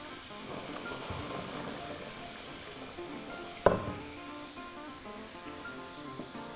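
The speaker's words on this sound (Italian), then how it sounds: "l'acqua sta bollendo, metto il sale" Pasta water bubbles at a steady rolling boil in a pot with a constant hissy texture, broken once by a sharp clink near the middle as salt is added.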